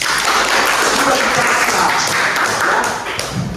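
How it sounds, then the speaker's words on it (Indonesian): A classroom of students claps in steady, dense applause, loud and close, lasting several seconds before tapering slightly at the end. "Tepuk tangan."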